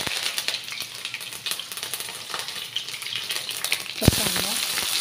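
Mustard seeds, cumin, green chili and curry leaves sizzling in hot oil, a loud crackling spatter throughout, with a sharp burst of sizzle near the end as more goes into the pan; no talking.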